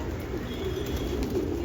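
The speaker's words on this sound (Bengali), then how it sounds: "যেমন আমার এই কবুতরগুলা দেখেন" Flying pigeons coo steadily on a hot afternoon over a constant low background hum, with no talk.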